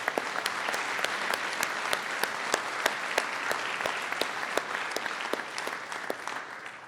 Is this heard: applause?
yes